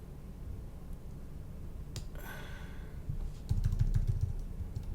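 Computer keyboard keys pressed while working in Logic Pro X: a few light, quiet clicks and taps over a steady background hum, with a brief sharper burst near the end.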